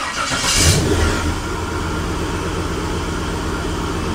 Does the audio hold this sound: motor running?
yes